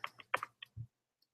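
A few quick keystrokes on a computer keyboard, tapped in short soft bursts and then stopping, quiet and close.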